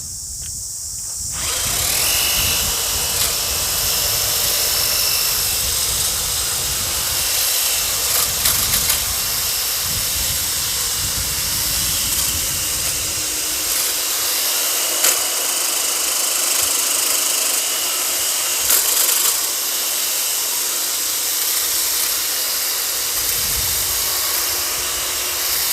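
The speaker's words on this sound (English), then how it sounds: "we'll switch it over to the hedge trimmers" Toro 60V cordless hedge trimmer cutting through mesquite branches outdoors, a steady loud motor buzz running throughout with brief shifts in tone as the blades bite into wood.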